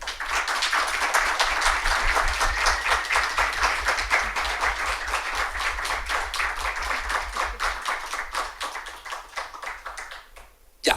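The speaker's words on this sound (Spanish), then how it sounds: "pedirles un aplauso para ellos" An audience in a university panel session applauds the professors, dense rhythmic hand clapping close and steady for about ten seconds before tapering off, ending with a brief thump.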